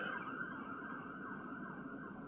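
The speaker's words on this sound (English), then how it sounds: "it's not a disco, it's an ambulance" An ambulance siren wails on a city street in San Jose, a steady, fairly faint whooping tone sweeping up and down over the distant hum of traffic, with no talk.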